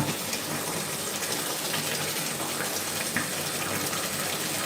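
Tap water runs steadily over bare feet during a foot wash, a continuous close hiss and splash with no pauses or voices.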